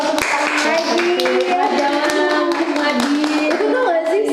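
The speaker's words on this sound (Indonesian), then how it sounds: "boleh dong tepuk tangan lagi" Applause from a podcast studio audience, quick overlapping handclaps running steadily under a tonal background of voices or music.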